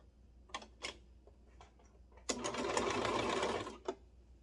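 A cover stitch sewing machine hems an oversized t-shirt: a few short separate stitch bursts, then a steady loud run of about a second and a half, ending with one brief final burst, close by with no talk.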